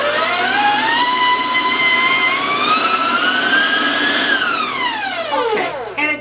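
Stand mixer with a paddle creaming sugar cookie dough, a loud whining motor hum rising gradually in pitch, holding, then winding down near the end, with no one talking.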